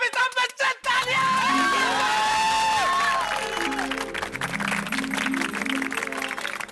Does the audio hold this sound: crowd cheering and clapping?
yes